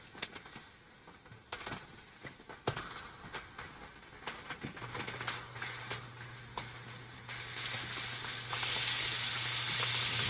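Carnitas pork sears in a hot pan on a home stove, a steady sizzle with scattered pops and spatters that swells into a loud, continuous hiss toward the end, with a low hum underneath and no talking.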